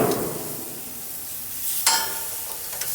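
Hanger steak searing in a pan over the highest heat, giving a steady loud sizzle with hissing spits and a couple of sharper crackles, no voices.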